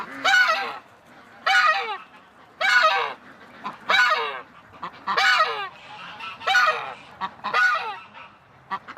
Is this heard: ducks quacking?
yes